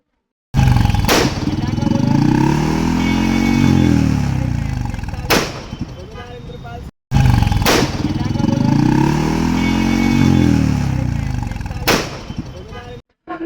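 Bullet motorcycles fitted with loud firecracker-style exhausts, stopped in a traffic police drive in Ujjain: a heavy, roaring engine drone runs almost continuously, broken by a few sharp, cracking bangs, loud and close.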